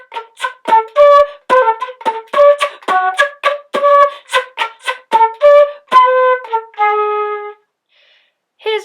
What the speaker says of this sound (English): When you put them both together, the beatbox will help to mask the flute sound.